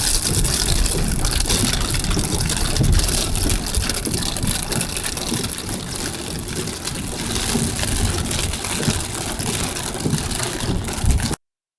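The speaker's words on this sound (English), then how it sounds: "It's raining harder now." Heavy rain pounds a car while driving through a storm in Orlando, Florida, a loud continuous roar of water on the roof and road spray with engine noise underneath, steady until it cuts off abruptly.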